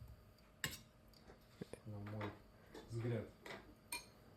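A skillet handled on the stove while making an omelette: a few sharp metallic clanks and knocks of pan and utensils, fairly quiet, with brief stretches of voice between them.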